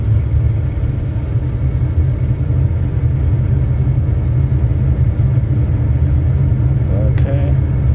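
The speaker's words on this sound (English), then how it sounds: "So let's roll through the grass." A Lockheed Super Constellation rolls across grass in a flight simulator game. A steady low engine drone and rumble continues without a break, with faint voices at times.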